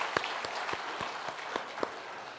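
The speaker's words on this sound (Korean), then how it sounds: "그분들을 위해서 애썼다고 박수 한번 합시다" A church congregation applauds during a Sunday service, with clapping spread across the room at a moderate level and no voices over it.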